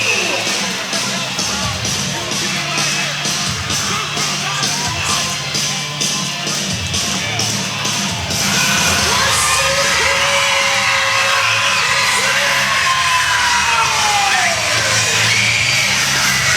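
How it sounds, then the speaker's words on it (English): A wrestling crowd at a televised NWA event roars with sustained yelling and cheering, loud and dense throughout, swelling louder in the second half. "And here it is, the crowd coming alive."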